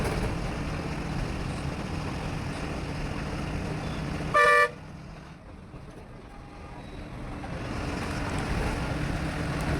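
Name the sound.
city traffic with honking around a KSRTC bus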